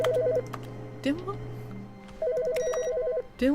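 A telephone in the video game The Stanley Parable: Ultra Deluxe rings with a warbling electronic trill, one ring fading out and another starting after a gap, while a person talks and clicks in between.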